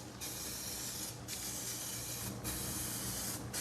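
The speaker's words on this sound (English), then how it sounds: "it prevents overspray in the area that I just sprayed" Lacquer is sprayed onto a chest with a spray gun, producing steady hissing bursts with three brief pauses between passes, close and loud with no talking.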